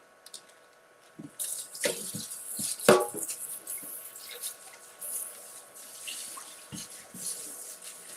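Water running from a kitchen tap in a home cooking setting as something is rinsed out, a steady splashing wash with a few clunks and bumps from handling, close and fairly loud.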